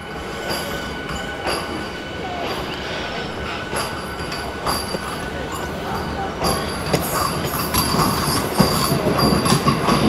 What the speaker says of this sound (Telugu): అంటే ఎలక్ట్రిక్ ట్రైన్ కనుక ఇంత ఫాస్ట్ వెళ్ళిపోయింది అన్నమాట